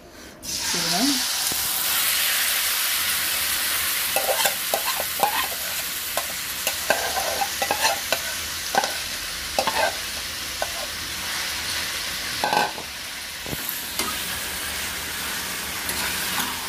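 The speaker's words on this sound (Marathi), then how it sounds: "तर आता मी ह्या तेलामध्ये हे टाकते" Marinated, finely cut chicken hits hot oil in a pan for tacos, with a sudden loud sizzle settling into steady frying hiss, and scattered stirring scrapes and clinks close by.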